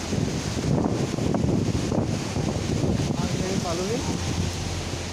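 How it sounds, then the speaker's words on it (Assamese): Rushing river water at Parshuram Kund, a steady broadband roar with some wind buffeting and faint rustling mixed in, continuous and fairly close. "আৰু পানীৰ শব্দ নিশ্চয় শুনিছে"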